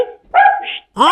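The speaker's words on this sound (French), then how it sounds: "J'ai un chien." A small dog gives a few quick, high yapping barks up close, with short gaps between them and a voice talking around them.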